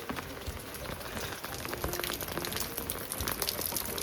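Steady rain pattering on a hard surface, dense and continuous throughout with no voices.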